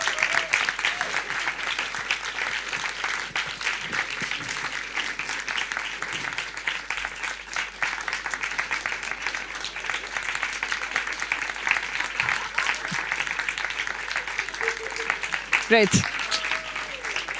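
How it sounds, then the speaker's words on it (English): An audience at a political policy event keeps clapping for a long stretch after a Spanish deputy prime minister is introduced, steady and full, with a host briefly speaking over it near the end. "You have to keep applauding until she..."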